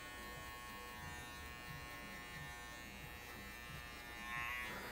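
Electric hair clipper cutting a fade haircut, a faint continuous buzzing hum held steady throughout, with no voices.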